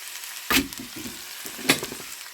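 Bell peppers are added to a hot pan for stuffed crêpes and sizzle. Two short bursts of frying land a second apart, with soft stirring and crackle between them, close and moderately loud, with no talking.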